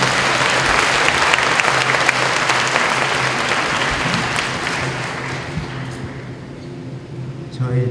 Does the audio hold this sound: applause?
yes